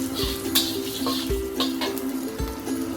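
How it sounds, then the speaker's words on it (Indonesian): Crushed garlic sautéing in a pan, a close sizzle with light stirring and clinks against the metal, over a faint steady hum, with no talk. "Sekarang aku tumis dulu bawang geprek."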